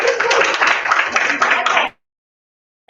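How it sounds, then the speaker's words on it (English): Audience applause for election candidates at a student society meeting, a dense burst of close hand clapping that runs steadily for almost two seconds and then cuts off abruptly into silence. "So another round of applause for your candidates."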